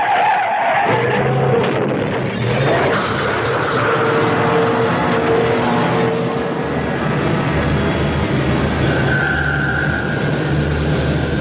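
A car skids and its tires squeal in a radio drama after the brakes fail, a loud, sustained screech and roar lasting many seconds without a break.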